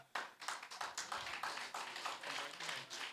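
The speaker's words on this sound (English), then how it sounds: "Give him a round of applause." Audience applause at a Leeward Islands debating competition, a steady wash of many hands clapping from a crowd, with dense overlapping claps that hold fairly constant, no voices heard.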